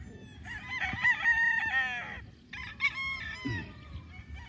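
A farm rooster crows twice in succession, the long cock-a-doodle-doo calls loud and close over a bed of low rustling background noise, with no one speaking.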